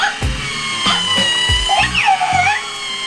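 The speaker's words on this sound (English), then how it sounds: "you can hear a whole bunch of gears with your remote control." Close, whirring gear noise from a remote-controlled Baby Yoda (The Child) toy as it moves, in short mechanical bursts mixed with faint electronic squeaks.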